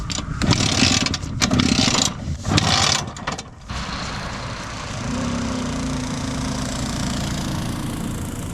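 A small engine sputters and revs in rough bursts, cuts out, then settles into a steady low idle.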